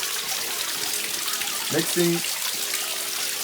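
Constant broadband rush of a small waterfall at Holywell Park, Jamaica, flows under a voice speaking briefly nearby.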